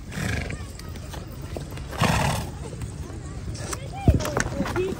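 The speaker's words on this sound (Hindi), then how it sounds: "इमरान भाई अपना घोड़ा लेकर आ चुके हैं।" Bakarwal nomads' horses in Kashmir walk with clip-clopping hooves, a steady plodding rhythm under outdoor talk, with occasional whinnies and other animal calls.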